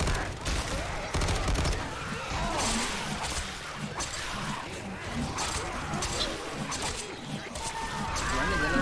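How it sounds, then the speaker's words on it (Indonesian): Rapid bursts of gunfire in Left 4 Dead 2 crackle almost continuously, loud and close, with sharp impacts and faint voices mixed underneath. "Ini ada tembakan nih."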